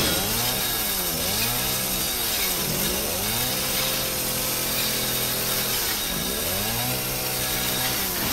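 A chainsaw in Resident Evil 7 cuts through a door, with a loud, steady engine snarl whose pitch sags and climbs again as the blade bites, continuous for several seconds with no voices.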